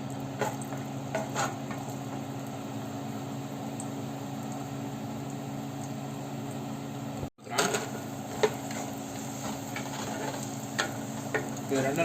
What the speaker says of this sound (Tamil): இதில் நான் இப்போ லைட்டாக கீயை ஆட் பண்ணி முந்திரியும் திராட்சையும் வறுத்து எடுத்துக்க போகிறேன்